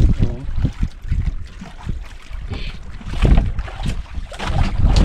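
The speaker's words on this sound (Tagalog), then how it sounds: "medyo naglakas-lakas na, laki-laki na yung alon" Choppy waves slap and wash against a small boat, with gusty wind rumbling over the microphone throughout.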